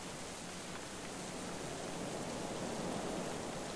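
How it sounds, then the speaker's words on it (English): Hail falling in the video game Going Medieval, a steady, faint, even hiss of pelting ice with no breaks and no voices. "Temperature's 21, but it's hailing."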